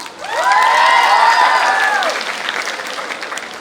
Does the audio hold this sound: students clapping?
yes